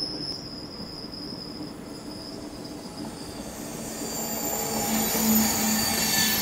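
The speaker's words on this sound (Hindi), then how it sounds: "कालका शताब्दी एक्सप्रेस," Kalka Shatabdi Express approaches on the Chandigarh–Kalka line, a steady rumble of wheels on rails growing louder with squealing wheel tones, while insects chirp in the background.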